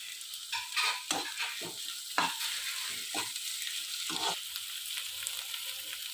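Red chillies and sorrel leaves sauté in a pan, a soft steady sizzle broken by repeated scraping stirs of a spoon, close and fairly quiet, with no talking.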